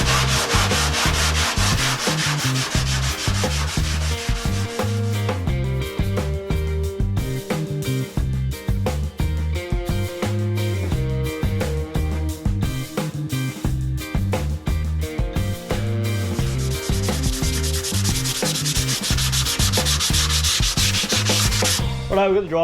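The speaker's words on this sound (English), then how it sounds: "finish sanding this bottom quarter there" Continuous abrasive sanding against the bodywork of a 60 Series Toyota LandCruiser, close and loud, with a steady rubbing rhythm and brief changes in pressure.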